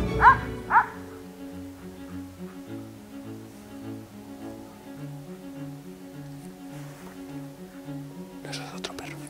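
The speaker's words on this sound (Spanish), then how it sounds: "Eso es otro perro." Two short barks from a hunting dog at a Spanish montería boar hunt, close and loud right at the start, followed by steady background music with no further barking.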